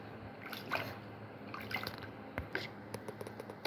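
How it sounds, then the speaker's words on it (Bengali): Water dripping and trickling off washed raw beef set aside to drain, a quiet run of soft irregular drips and small wet splashes close by, with no talking. "এটা এখন ধুয়ে পানি ঝরাতে দেব।"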